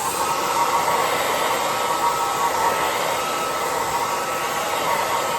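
A hand-held hair dryer runs steadily at close range, a loud continuous blowing roar drying two coats of Fusion Victorian Lace paint on a piece of thrifted furniture.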